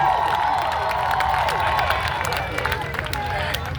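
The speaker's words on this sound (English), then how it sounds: "Give them a cheer." Crowd at the 60th Selma to Montgomery March concert cheers and claps steadily, a dense, loud wash of applause and voices holding throughout with no single standout shout.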